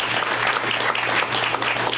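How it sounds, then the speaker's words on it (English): Audience applause at a Guajome Park Academy chamber event, a dense, steady clapping that fills the room without pause. "a big round of applause for our Chamber for putting on this amazing event"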